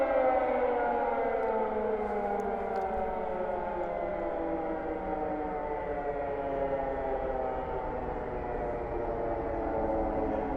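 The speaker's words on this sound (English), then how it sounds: "I got sirens on all the sites showing it" A civil defense siren plays from a recording, a loud sustained wail with layered harmonic tones slowly falling in pitch, steady and continuous throughout.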